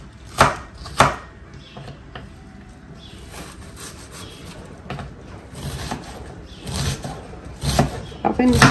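A knife slices an onion into thin strips for a sauce, giving repeated close cutting taps and soft rubbing scrapes on a board, some sharper strikes standing out, with a person talking in between.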